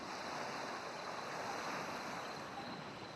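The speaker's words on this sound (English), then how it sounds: "the sounds of the crashing waves are all vivid" Ocean waves crash and wash onto a sandy shore under a starlit sky. The surf is a steady, continuous roar with no distinct breaks and no voices.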